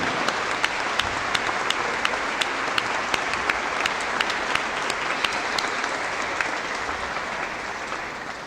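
A commencement audience applauds steadily and loudly throughout, many hands clapping at once in a dense, continuous wash with no voices on top.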